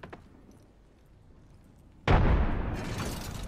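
A frag grenade explodes in a video game with a sudden loud boom that bursts out mid-clip after a quiet stretch, then decays slowly into a lingering roar.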